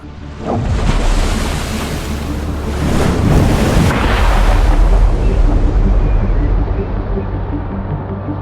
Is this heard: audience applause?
no